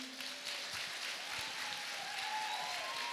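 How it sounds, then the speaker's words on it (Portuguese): Applause from a women's conference audience, a brief burst of clapping that fills the room briefly and stays fairly soft, with a faint tone lingering underneath. "Pode aplaudir."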